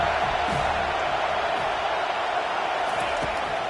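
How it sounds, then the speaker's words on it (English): A stadium crowd in a college football video game, Florida State against Florida, roars in a steady, loud wash of cheering and noise on a third down, with faint commentary underneath. "Decibels rising as the crowd gets behind this defense on 3rd down."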